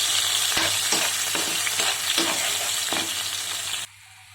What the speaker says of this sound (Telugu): ఉల్లిపాయ, పచ్చిమిరపకాయలు, అల్లం వెల్లుల్లిపాయలు పేస్ట్ చేసుకున్నాం. ఇప్పుడు ఫ్రై చేసుకోవాలి.